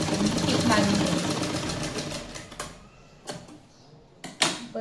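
A sewing machine stitches a katori blouse, running in a steady mechanical whir for the first two and a half seconds, then falling quiet apart from a few short bursts of stitching near the end.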